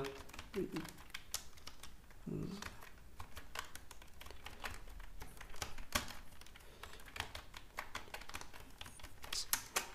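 Someone types code on a computer keyboard in steady, fast clattering keystrokes that run the whole time, close by, with someone speaking briefly over the typing.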